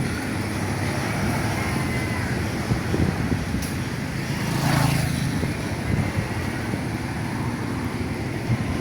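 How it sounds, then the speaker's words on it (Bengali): Steady roadway noise from cars and motorcycles on a busy street beside the riverside near the Royal Palace in Cambodia, a continuous broad rumble with one vehicle swelling louder as it passes mid-way, no talking. "রাস্তার গাড়ি অনেক বেশি"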